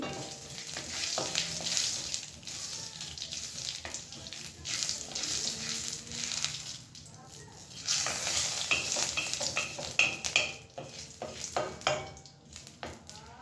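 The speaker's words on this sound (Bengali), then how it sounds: "আমার এটুকু তেলেই হয়ে যাবে ফোড়নে দিয়ে দেব রাঁধুনি" Radhuni seeds tempering in a little hot oil for a koi fish and spinach dish, a steady crackling sizzle with occasional stirring scrapes, soft and close, with no clear talking.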